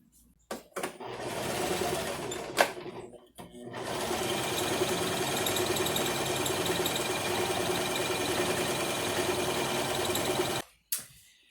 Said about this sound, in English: I'm going to be stitching between the straight stitch and the edge